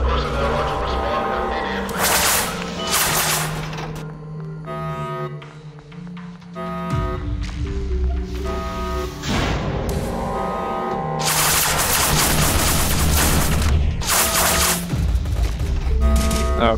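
Gunfire in the SCP: Roleplay video game rings out in repeated bursts of rapid shots and booms, loud and close, over a musical background with intermittent pauses.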